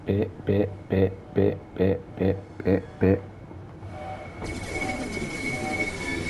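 A Class 465/9 electric train runs on the Southeastern High Speed line in the Train Sim World 2 game. Regular, heavy wheel thumps come about twice a second, then give way to a steady rushing hiss.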